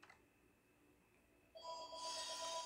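A phone rings in the Nintendo DS game Bakugan Battle Brawlers, a bright repeating electronic tone that starts after a quiet moment and carries on loud and clear.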